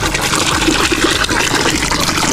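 Water gushes steadily from a pump-fed source on a small backyard farm, a loud continuous splashing rush close by with no pauses.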